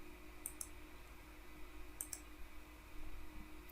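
A computer mouse clicks faintly, two quick click pairs spaced apart, against a quiet room hum with no voices.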